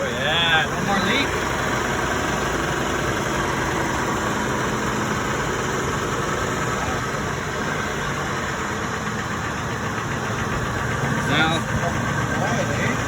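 A Triton V10 dump truck engine idles steadily with a freshly repaired exhaust, a continuous low rumble held close for the whole stretch, with voices talking over it.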